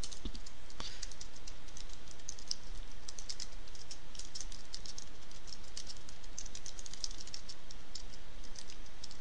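Steady, rapid keyboard typing while entering text into a course editor, a dense run of close, crisp key clicks filling the whole stretch with no pauses and no voices.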